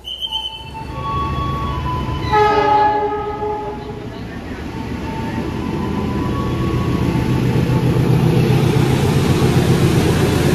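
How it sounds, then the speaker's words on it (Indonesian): A train passes through a railway station, sounding its horn briefly before the loud, steady rumble of wagons rolling past fills the rest of the clip. "Ini masih ada kereta yang mau melintas langsung kayaknya."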